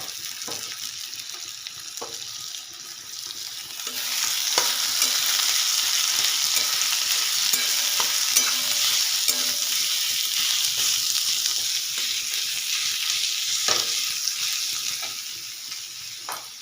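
Chopped onions frying in a pan, a steady close sizzle that swells louder after the first few seconds, with scattered clinks and stirring knocks throughout.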